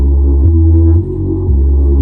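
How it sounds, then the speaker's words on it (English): Two bass layers from a dance beat play together: a mid-range bass line stacked over a deep sub, with loud, throbbing notes that shift in pitch every half second or so. No voices. "Then the two sound like this."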